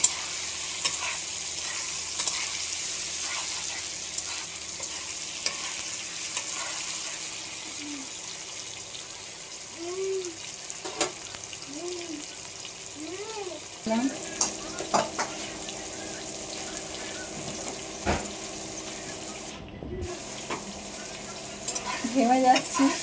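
Chickpeas and moong dal fry in a pan with a low steady sizzle as a spoon stirs them, scraping now and then, while faint background noises and brief tones come and go.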